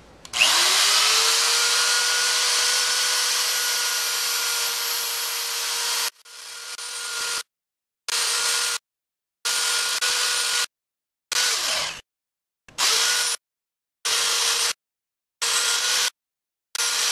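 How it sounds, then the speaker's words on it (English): A power tool grinds down the top of a metal spoon being reshaped into a bow drill bearing, starting with a long steady whine about six seconds, then cutting in and out in repeated short bursts with silent gaps between. "Basically what I'm doing is just slowly grinding it down."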